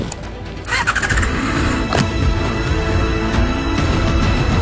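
A BMW K1600 motorcycle attempts a wheelie during a stunt session, its engine revving and squealing loudly and close, with a sharp burst at the start and a sustained strained roar afterward.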